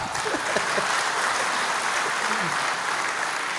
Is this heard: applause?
yes